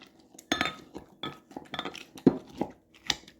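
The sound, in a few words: mashing ingredients for granola in a bowl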